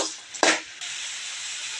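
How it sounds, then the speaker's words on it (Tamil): Vegetables sautéing in a pan in a home kitchen, a soft steady sizzle with one brief louder burst of stirring partway through. "வதங்கட்டும், 2 நிமிஷம் நல்லா வதங்கட்டும்."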